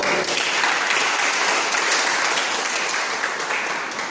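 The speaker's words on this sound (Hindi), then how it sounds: "लेकिन आज मनोज सर के लिए पहले जोरदार तालियां आपको" A seminar audience in Godda, Jharkhand breaks into loud, dense applause, many hands clapping together in a sustained burst that tapers slightly toward the end.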